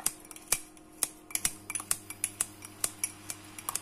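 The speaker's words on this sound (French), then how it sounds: "à l'aide de mon ciseau, je vais hacher comme ça" Scissors snipping fresh herbs for a courgette flan recipe: a series of sharp, crisp metallic clicks at an uneven, fairly quick rhythm, close and clear with no talking.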